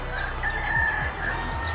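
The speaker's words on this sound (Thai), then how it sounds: "ผมอัดข้างนอกเนาะแล้วก็อาจจะมีเสียงพวกไก่ หรือเสียงใส่เข้ามาครับ" Outdoor chickens cluck and a rooster crows in one drawn-out call at moderate distance, with steady background hum and no talking.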